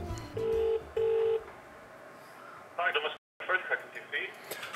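Two short telephone keypad tones beep in quick succession, followed by a pause and then a voice talking on the line.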